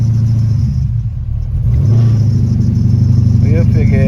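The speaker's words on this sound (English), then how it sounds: "I gotta fix that belt squeal." Oldsmobile Cutlass G-body engine running loud and close with a squealing drive belt, rumbling steadily with a brief rev and a high whine over it.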